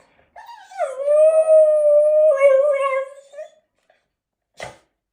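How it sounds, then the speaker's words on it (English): A trained dog lets out one long, sustained howl that rises and then holds a steady wavering tone for nearly three seconds, close and loud, followed by a short sharp knock. "It's a dog."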